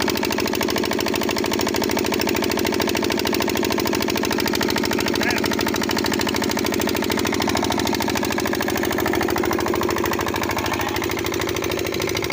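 An engine drives a pump that sprays pressurized water, making a loud, continuous rapid knocking chug that holds steady and close from start to finish.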